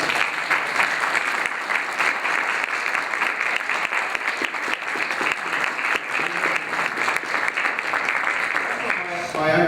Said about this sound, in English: we can acknowledge you with a round of applause for all your work this summer